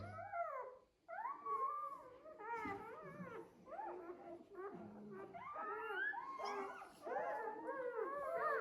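A shepherd dog howls and whimpers in a long series of wavering, rising and falling cries, close and fairly loud, with brief pauses between.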